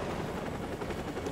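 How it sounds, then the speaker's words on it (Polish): A helicopter in Call of Duty: Modern Warfare 2 Remastered gives a dense, rumbling rotor drone with a rapid chopping pulse, loud and continuous through the moment, with no voices over it. "Oby to nasz śmigłowiec"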